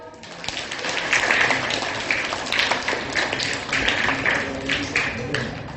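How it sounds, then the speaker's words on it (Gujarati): A group of young children claps together at a school programme, a dense burst of hand claps sustained for several seconds with voices mixed in. "હા, તો હાલો પાછી તાળી પાડો."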